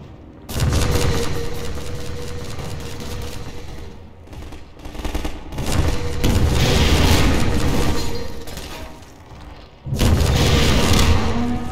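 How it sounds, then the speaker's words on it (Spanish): Rocket explosions and heavy gunfire in the Half-Life 2 video game, a loud dense barrage of booms and rumbling blasts that swells in several bursts with brief dips in between. "Seis cohetes para reventarlo."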